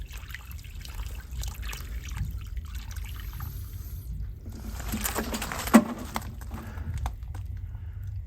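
Water is poured by hand onto potted Japanese maple trees outdoors, giving a steady low splashing and trickling. It swells briefly midway and carries on without speech.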